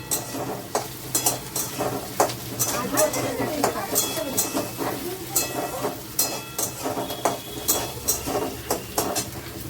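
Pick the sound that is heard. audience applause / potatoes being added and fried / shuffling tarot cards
potatoes being added and fried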